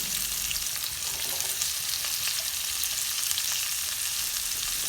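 Chopped onion and capsicum for beef chilli fry in a pan with a dense, continuous hiss and crackle, close and even throughout with no talking.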